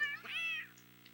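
A single drawn-out cat meow, close and clear, followed by a faint second call under a low steady hum.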